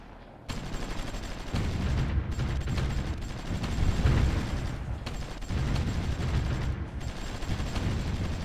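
Artillery bombarding Madrid in the strategy game Supreme Ruler Ultimate, a sustained rumbling barrage of booming shots and gunfire that goes on steadily and loudly with brief dips.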